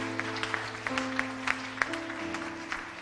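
Church congregation applauding to acclaim the Lord, a steady patter of clapping with sharper individual claps over a sustained organ-like tone.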